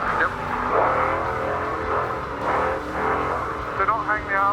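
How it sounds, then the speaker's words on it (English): Patriot trophy truck number 484 rolls in slowly at the Finke desert race, its engine a steady low drone running the whole time with louder surges, heard beneath people talking nearby. "We've got the Patriot truck coming in, the 484."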